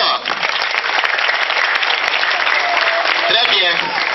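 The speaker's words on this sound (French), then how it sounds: "Très bien, applaudissez très fort." Children at a primary school prize ceremony clapping in a dense, sustained round of applause with voices mixed in, loud and close throughout.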